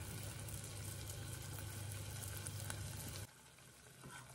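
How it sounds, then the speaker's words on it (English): Onions cooking in butter in a pan for scalloped potatoes give a steady, even frying sizzle that drops to a quieter hiss near the end, with no talking. "So let me let these onions cook for just a minute."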